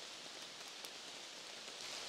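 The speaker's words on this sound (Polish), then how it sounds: "Tymczasem pada deszcz. Pada deszcz, ja się chowam" Steady rain falling in a beech forest, a soft, even hiss of drops pattering on leaves, faint and continuous with no voices.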